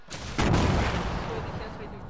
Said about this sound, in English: Look at the biggest explosion now.